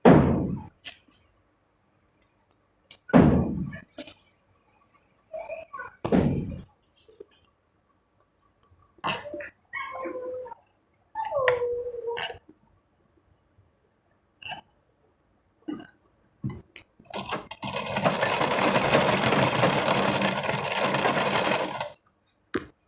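A sewing machine stitches the side seams of a top, brief handling clicks and thumps at first, then a steady whirring run of stitching near the end.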